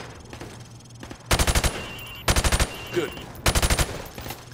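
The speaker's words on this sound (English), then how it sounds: "I want you to shoot the targets through the wood." Three rapid bursts of automatic gunfire ring out in Call of Duty Modern Warfare as rounds punch through plywood at pop-up targets, each burst a quick rattle of five or six shots, with brief speech between.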